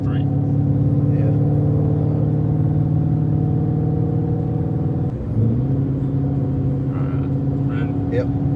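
A Chevy car accelerates hard under sustained throttle, its steady, loud engine drone holding strong with a brief dip near the middle as it downshifts, then pulling on again.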